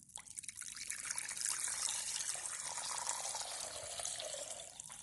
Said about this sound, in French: Et j'ajoute une quantité d'eau qui est l'équivalent d'1 litre.